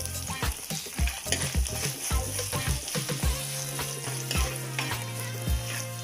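Curry leaves fry in oil with ginger, garlic and green chillies for a Kerala sardine curry, a loud crackling sizzle punctuated by regular thumping stir strokes against the pan.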